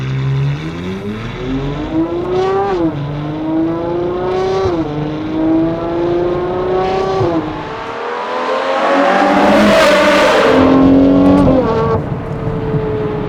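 A powerful V12 engine in a Novitec-modified Ferrari Purosangue revs repeatedly up close, its loud exhaust climbing through gears and shifting, then roaring hard with crackles near the end.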